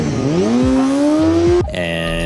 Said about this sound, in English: This is me pinging the red line in a drive-through.